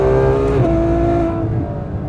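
A front-engined Ferrari F12 pulls wide open in third gear, a loud, close engine note climbing steadily with a brief shift in tone before easing slightly.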